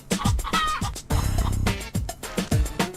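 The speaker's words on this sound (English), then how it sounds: "So in conclusion, Mort is clucking awesome" A chicken clucks loudly and close by in quick, repeated bursts with short pauses between them.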